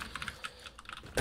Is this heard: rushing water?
no